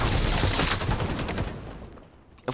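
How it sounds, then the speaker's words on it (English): Automatic weapon fire in a video game, a dense rapid burst of loud shots that tapers off, followed by one last sharp report near the end. "Of course, he had an automatic weapon."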